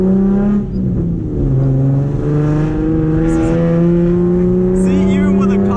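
Nissan 350Z with a full Tomei exhaust accelerating from inside the car: a loud, rising engine drone with strong harmonic tones sweeping through the gears and a brief dip at a shift, with a voice talking over it.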